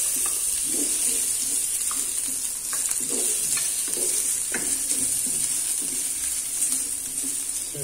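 Ginger sizzles steadily in a hot pan for sinigang with miso, a constant bright frying hiss with soft scraping stirs throughout.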